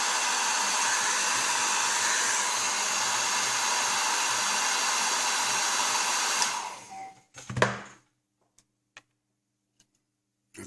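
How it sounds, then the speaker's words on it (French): A hair dryer blows steadily and loudly at close range for about six seconds while a Tamiya 1/24 Porsche 911 GT2 model kit is being built, then switches off and winds down, leaving a few faint clicks and taps in near silence. "un petit coup de sèche-cheveux"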